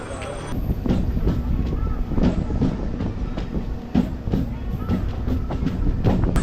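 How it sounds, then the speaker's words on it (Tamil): A MEMU express train runs between Manavur and Kadambathur stations on the Tiruvannamalai to Chennai Beach line, with a steady low rumble and rhythmic wheel clatter throughout. A voice speaks over it. "இப்போ ட்ரெயின் ஸ்டார்ட் ஆகிடுச்சிங்க"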